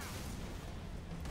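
Halo 3 explosion: a loud, dense rumbling blast filling the whole short span, broad and booming with no quiet gap.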